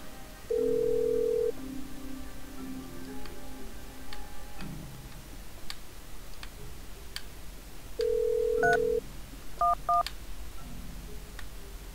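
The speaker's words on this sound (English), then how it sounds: "The phone." Telephone keypad tones in the puzzle video game Agent A: two long dial tones followed by several short beeps, heard close and clear over quiet background music with no talking.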